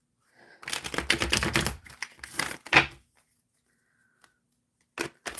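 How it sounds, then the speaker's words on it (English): A tarot deck gets a brisk shuffle, two bursts of dense riffling and flicking of cards close by, then a pause and a few short taps and snaps of the cards. "let me give it a good shuffle"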